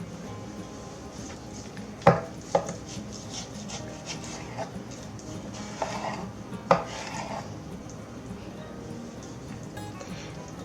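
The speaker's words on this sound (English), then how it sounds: "it's such a big piece, I'm going to cut it to put it in the crock pot" A knife cuts a large, well-marbled piece of fatty meat for tamales, with a few sharp knocks against the board and rubbing scrapes, while someone talks nearby.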